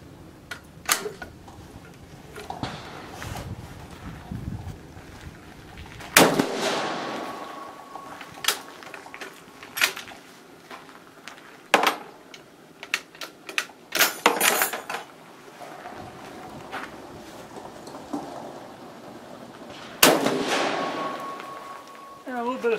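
Gunshots from a Carcano 1938 Cavalry carbine in 7.35x51mm fired with reloaded Hornady bullets outdoors, two sharp loud reports spaced apart, among clicks and handling noises of the rifle, with someone talking between shots.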